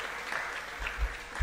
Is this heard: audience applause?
yes